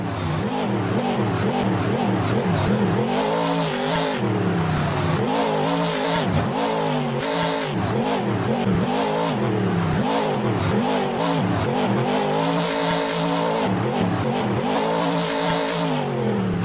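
A simulated monster truck engine in Rigs of Rods revs hard and continuously at a Brisbane Monster Jam run, its loud, close roar surging and dipping with the throttle across repeated launches.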